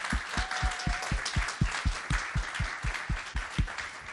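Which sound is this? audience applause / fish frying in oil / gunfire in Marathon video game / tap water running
audience applause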